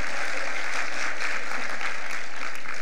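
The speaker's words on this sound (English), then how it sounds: "And you should applaud yourselves." Audience applause at an annual conference award event, a steady, dense wash of many hands clapping at close range, sustained and even throughout with no talking over it.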